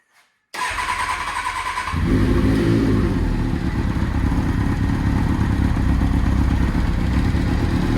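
Small engine of a classic Subaru Impreza cranked with the choke on, catching after a short starter whir and settling into a steady, loud, close idle that rises slightly and holds.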